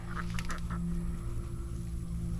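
A few quick duck quacks sound early on, moderately close, over a steady low hum that continues after they stop.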